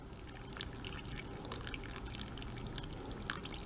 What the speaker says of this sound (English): I'm going to go ahead and add my 10 ounces of water